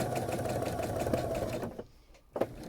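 A sewing machine stitches a small circle on a quilt block, running in a steady rapid chatter for under two seconds, then stopping with a brief click.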